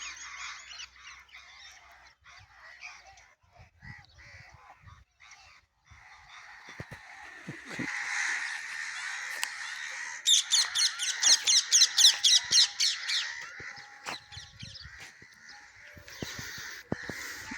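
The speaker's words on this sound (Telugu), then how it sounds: "సింహాద్రి మన పుంజు" A rooster calls out among other fowl, with honking, cackling cries that build into a rapid, loud series before trailing off.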